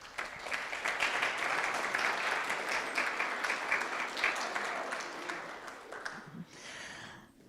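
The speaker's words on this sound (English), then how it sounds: "how about a big round of applause for them?" Audience at a guide dog graduation gives a warm round of clapping, steady and fairly distant, holding for several seconds before thinning out near the end.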